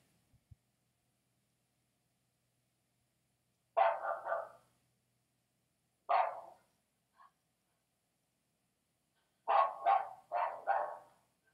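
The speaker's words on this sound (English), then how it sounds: "Alexa, what sound does a dog make?" Recorded dog barks played from an Alexa smart speaker during a hurricane: a single bark, another single bark, then a quick run of three barks, each separated by silence, moderately loud and clear.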